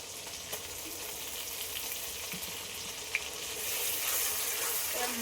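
Ground spice paste with garlic fries in oil for a meat dish, a steady dense hiss and crackle filling the clip, close and even, with a faint tap partway through and the sizzle swelling slightly toward the end.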